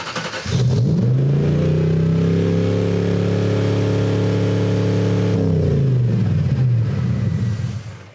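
Home-built Mustang-swapped Shelby Cobra replica engine held at wide open throttle, a loud steady high-revving drone that rises sharply, sustains for several seconds, then drops back, with no talk over it.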